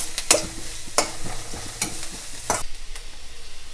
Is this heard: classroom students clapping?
no